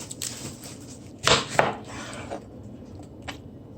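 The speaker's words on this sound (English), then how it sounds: "So we're gonna cut the onion." Knife chopping an onion on a cutting board in a home kitchen, a few close, sharp cuts with the strongest pair in the middle, then quieter taps, with no talk.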